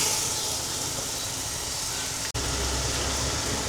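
Chicken sautéing in a pot for sopas gives off a loud, steady sizzling hiss that runs unbroken apart from one brief dropout.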